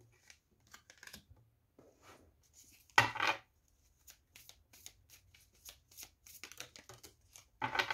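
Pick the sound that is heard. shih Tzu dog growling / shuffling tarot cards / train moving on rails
shuffling tarot cards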